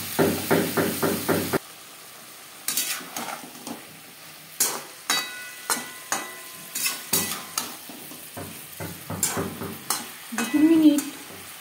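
A spoon scrapes and knocks rhythmically against a pan while cauliflower with spices is stirred over sizzling heat. Regular close strokes come in steady series, with a brief hiss and a short squeak near the end.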